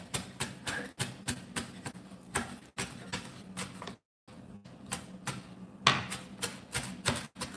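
A knife chopping food on a cutting board in a home kitchen, a quick steady run of close, crisp chops with a brief pause partway, fairly quiet and without talk.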